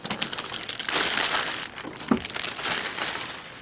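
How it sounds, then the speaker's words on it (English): Plastic wrapping pulled off a Sharkoon Xtatic SR surround headset box: loud, close crinkling and crackling plastic that runs nearly unbroken for a few seconds, with a brief thud partway through. "let's pull it out of the plastic"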